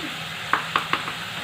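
Poppy seed paste being stirred into soft fried onions in a pan, three quick spoon scrapes and taps over a low background sizzle, close by with no talk.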